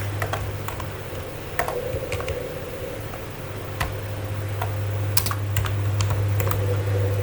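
Someone types on a computer keyboard during a data communications and computer networks lecture, making irregular light clicks over a steady electrical hum.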